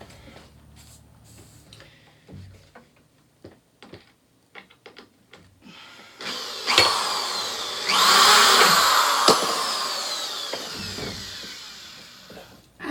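Power drill driving screws through pegboard into a wall, preceded by light clicks and handling taps, then a loud sustained whirring drive lasting several seconds, close and alone.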